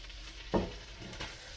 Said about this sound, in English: I've got some nice sizzling action going on here in my pot